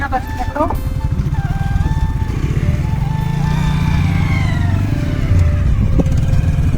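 Engine noise from a motorcycle ride in traffic, a loud steady low drone with rising and falling pitch as other vehicles pass, a horn briefly sounding near the start.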